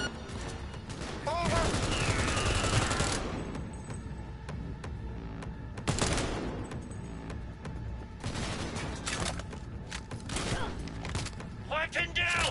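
Bursts of automatic and single gunfire from a firefight in Cyberpunk 2077, loud and close, with sharp shots spread across the clip and voices speaking at times.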